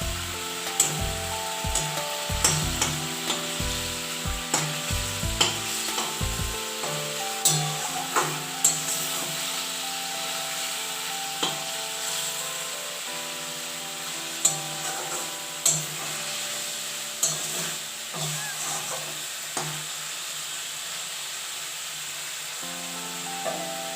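Bhola fish curry (tel jhal) frying and being stirred in a pan, a soft steady sizzle with scattered light taps and scrapes of a spatula, plus a denser run of knocking strokes at the start, and no talking.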